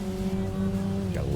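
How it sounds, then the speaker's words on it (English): A car drifting in the Dreamcast racing game Metropolis Street Racer, a steady droning engine note that shifts pitch near the end as the tires break into a brief squeal, heard alone at moderate level. "Got a little drift there"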